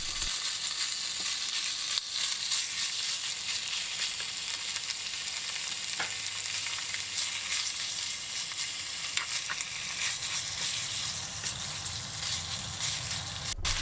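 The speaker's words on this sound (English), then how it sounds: "Heat salad oil in a frying pan and add the pork, cooking until both sides are nicely browned." Pork sizzles in salad oil in a frying pan, a steady bright crackle and spatter that carries on without a break, with a few louder pops now and then.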